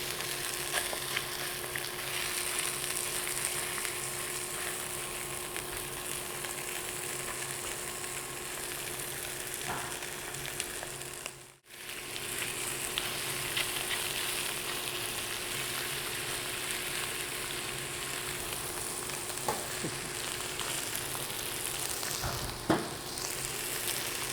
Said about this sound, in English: just as our chicken is starting to cook and starting to brown